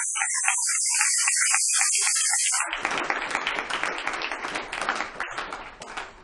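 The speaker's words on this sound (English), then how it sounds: "So a round of applause, I guess, to all the folks that have been involved this week." Applause from an audience, a dense wash of many hands clapping that starts partway through and continues steadily, following a brief stretch of other sound.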